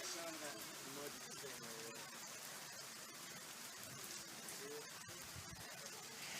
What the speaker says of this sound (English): As it continues to rain hard.